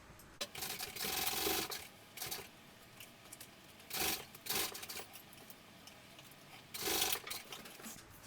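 A sewing machine bastes the exterior fabric of a sling in place, running in a few soft, brief stitching bursts with quiet gaps between them.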